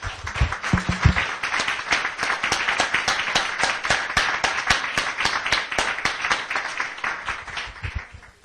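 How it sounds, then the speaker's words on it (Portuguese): Congregation in a church service breaks into sustained applause, dense rapid clapping from many hands filling the space at steady loudness with no talking over it. "Vamos dar uma salva de palmas bem bonita para ele."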